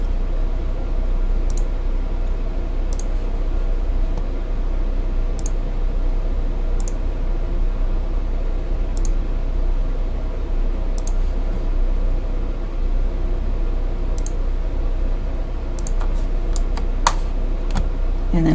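Computer keyboard keys are pressed sporadically while drawing a feeder cam part in CAD, giving soft scattered clicks with a cluster of quick taps near the end over a steady low hum.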